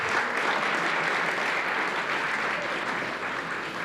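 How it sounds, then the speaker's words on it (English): A crowd at a university venture competition applauds steadily, a dense wash of clapping that holds for a few seconds and tapers slightly at the end. "Please join me in giving all our teams a round of applause."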